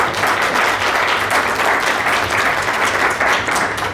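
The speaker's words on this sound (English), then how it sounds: "So please give my mother a round of applause." An audience at a book launch in a bookstore breaks into loud, sustained applause, a dense wash of clapping from many hands that holds steady for the whole stretch.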